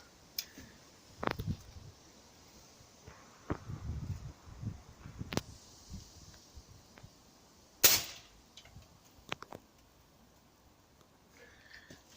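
Gunshots are fired at a pumpkin target outdoors, a few sharp isolated cracks spaced several seconds apart, with one loud close report near the middle and quieter clicks and handling noise between.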